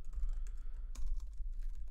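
Rapid clacking keystrokes on a computer keyboard while entering a local router domain name, steady close-up typing with a few sharper key hits and no talking.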